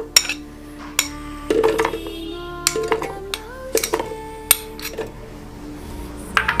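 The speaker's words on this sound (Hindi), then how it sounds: "तो सबसे पहले हम इसमें चुकंदर डाल लेंगे।" Beetroot pieces dropped one after another into a juicer, making close, sharp clattering knocks and ringing clinks in an irregular rhythm with short gaps between them.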